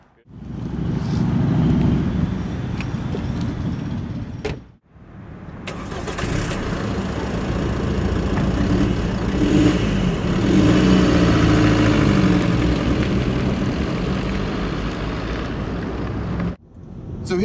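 A diesel car converted to run on vegetable oil fires up after a short crank, and its engine then runs continuously as it drives off. Wind and road noise rumble beneath the engine, and a brief gap breaks it near the end.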